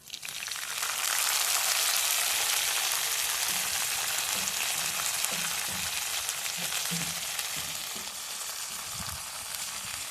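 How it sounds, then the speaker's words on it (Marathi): Mango blossoms sizzle and fry in hot oil for a chutney, a steady broadband crackle that starts abruptly and stays loud and close throughout, with faint low clinks of stirring underneath and no talking. "तेल गरम झाले. आता याच्यामध्ये हा आंब्याचा मोहर घालायचा."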